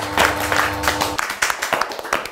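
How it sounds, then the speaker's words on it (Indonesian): Audience clapping on an Indonesian comedy game show as the team advances to the final round, a dense burst of applause that thins into scattered claps toward the end. "berikan tepuk tangan yang meriah karena kita masuk ke partai final!"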